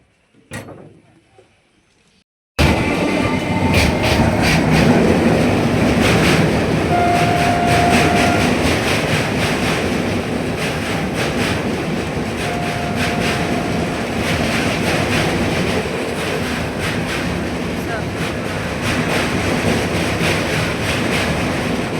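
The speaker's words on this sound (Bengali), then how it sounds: "মনে হচ্ছে মালগাড়ি হয়তো যাবে বাংলাদেশের ওইখান থেকে" A freight train rolls past near a border bridge with a continuous heavy rumble and repeated wheel clatter, starting abruptly after a short quiet moment and staying loud and close, with faint voices underneath.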